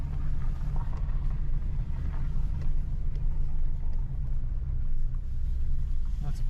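A vehicle drives over a rough, washboard-rutted dirt game lands road in Berks and Schuylkill County, Pennsylvania, giving a constant low engine rumble with rattling jolts from the bumpy surface, close and steady the whole time.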